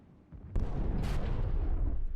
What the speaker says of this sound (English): So we get one more volley of artillery.